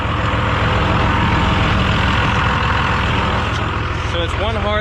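A semi truck engine idles steadily after a fuel line repair, a continuous low rumble close by throughout, with a voice speaking briefly near the end over the running engine.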